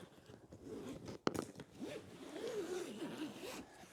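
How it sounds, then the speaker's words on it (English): A compression zipper drawn shut around a packed suitcase, a close, scratchy zipping run lasting about four seconds with one sharp click partway through and no talking. "I'm going to close the second zipper to compress it."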